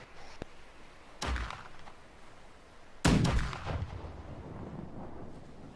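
Ship cannons fire in the naval combat game Blackwake: a sharp single blast, then a louder, heavier booming volley about two seconds later, each with a rumbling tail over faint background noise.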